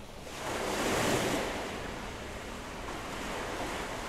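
Ocean waves wash in on a shore in a 1982 record drama, a broad, steady roar of surf that swells early and then holds, with wind-like hiss and no voices.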